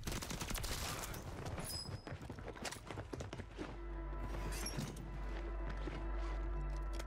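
Rapid gunfire crackles in a Warzone 3 (MW3) match, dense volleys of sharp shots for the first few seconds before thinning into scattered reports and footsteps over a low droning rumble.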